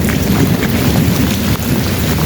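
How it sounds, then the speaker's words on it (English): Heavy, cold rain pours down outdoors in a dense, continuous hiss that stays loud and unbroken throughout, with no voices. "Look how much it's raining."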